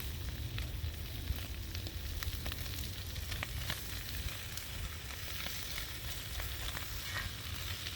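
Chunks of spam frying in a pan at an outdoor woodland cooking spot, a constant loud sizzle with crackles and small pops throughout, no voices.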